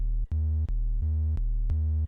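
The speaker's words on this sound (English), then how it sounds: "So right now we just have an initial patch. It's just a sine wave." Steady sine-wave tones from a synthesizer's initial patch, played as five sustained low notes in even succession, each starting and stopping cleanly, loud and alone.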